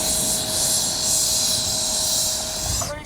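A Freewing 90mm T-45 Goshawk RC jet flies past outdoors, its ducted-fan turbine giving a loud, sustained high whine with a steady tone over rushing air, shifting slightly near the end.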